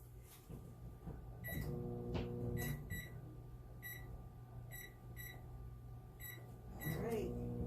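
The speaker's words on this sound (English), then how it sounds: "microwave ovens vary, so mine is 120" A microwave oven runs with a steady low hum, punctuated by several short repeated beeps and a door clunk, while people talk quietly nearby.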